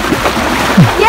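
Floodwater splashes and sloshes briefly, close by, inside flooded rooms of a government school, with a voice over it.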